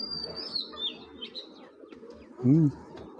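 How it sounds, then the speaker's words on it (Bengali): A domestic fancy pigeon gives one loud, close, rolling coo near the end, with soft chirps and faint background noise before it. "এটা ভাই কবুতর ভাই"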